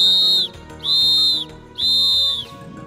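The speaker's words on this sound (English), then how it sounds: "blow three whistles" Three sharp referee whistle blasts signalling time expired in a timed sports match, each about half a second long and evenly spaced, loud, shrill and close with nothing else around them.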